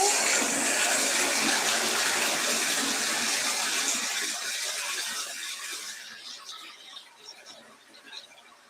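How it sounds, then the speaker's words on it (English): A bathtub tap pours water in a loud, dense rush that gradually tapers off as the flow is turned down toward the end. "Let me turn on some more water."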